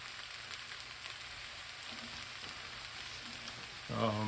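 A pound of ground beef frying in a pan, a quiet steady sizzle and crackle running throughout.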